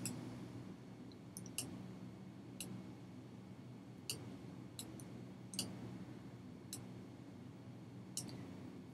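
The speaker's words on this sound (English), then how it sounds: "We can tweak this result set by clicking and dragging the columns." Computer mouse clicking while columns are dragged in data software, sparse sharp single clicks spaced a second or so apart over a quiet room hum, no speech.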